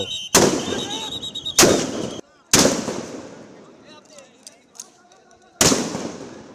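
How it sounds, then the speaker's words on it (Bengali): Police fire sound grenades at protesters in a street clash, four loud sharp blasts spaced a second or more apart, each ringing out and echoing, with fainter crackles and distant shouting between them. "অন্য একটি দল সাউন্ড গ্রেনেড ছুটছিল আন্দোলনকারীদের লক্ষ্য করে"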